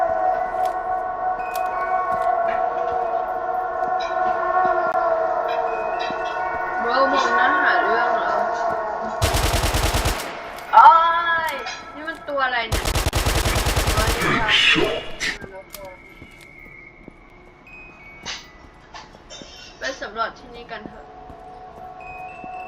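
Gunfire in the Roblox game Huggy Wuggy Shooter comes as two loud, dense bursts of rapid shots in the middle, with tonal game music and a talking voice around them.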